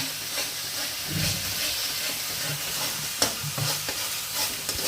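Ground spice paste of chili, turmeric, onion, garlic and ginger with cardamom, clove and cinnamon frying in a pan for prawn curry, a steady close sizzle and hiss broken by occasional scraping stirs.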